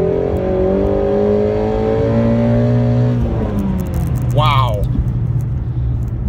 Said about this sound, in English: this motor is just an all-star. I mean, listen to the revving.